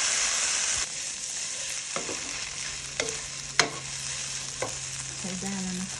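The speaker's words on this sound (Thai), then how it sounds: "ใส่หอมเจียวลงไปหน่อยพอดีมีหอมเจียวเหลืออยู่ก็เลยเอามาใส่ด้วยเลยคลุกให้เต็มข้าวกับเครื่องดีเลยนะคะ" Pad thai noodles stir-fried in a hot pan with fried shallots tossed in, a steady sizzle with intermittent scraping strokes of a spatula, close and alone.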